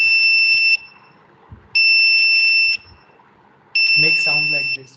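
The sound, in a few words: buzzer connected to microcontroller output beeping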